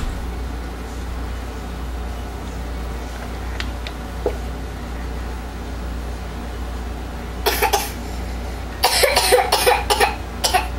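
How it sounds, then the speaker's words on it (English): A baby coughs in a kitchen during soap making, a few quick close coughs in a cluster near the end after a stretch of quiet room hum. "what are you coughing about?"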